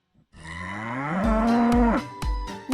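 Cattle mooing, one long, loud, close bellow that rises and holds before breaking off, followed by short grunting lows, with no other sound around it.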